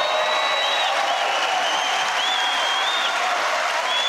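A large political rally crowd applauds and cheers in a sustained, even wash of clapping, with faint whistles rising above it.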